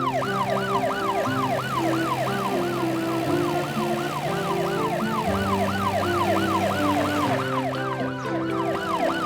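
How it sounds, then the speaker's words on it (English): An ambulance siren in a children's cartoon wails loudly and without a break, rising and falling in quick, even sweeps over a low background tone. "The ambulance is coming out of the helper car's garage."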